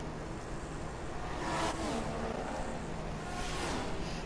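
Formula 1 car engines from F1 2014 at the Canadian circuit, including a Red Bull and a Ferrari, whine continuously, rising twice as cars scream past down the straights.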